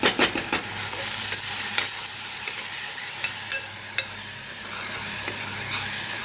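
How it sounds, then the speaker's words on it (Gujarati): Onions and tomatoes sautéing in a pan as a chili masala is stirred in, a steady close sizzle broken by several sharp scraping clicks of the spoon, loudest at the start. "ડુંગળી ટામેટા આપણું સંતળાઈ ગયું છે. હવે મરચું ઉમેરી દઈએ."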